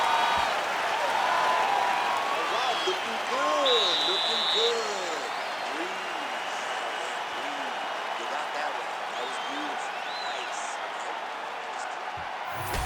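Crowd noise from the UFC 5 video game, a broad wash of cheering and applause behind commentators talking about the fighters, with occasional squeaky tones above.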